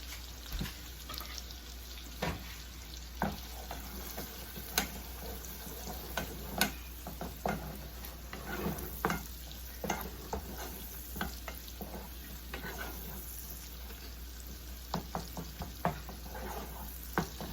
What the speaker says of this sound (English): Kind of just like let this saute for just a few minutes.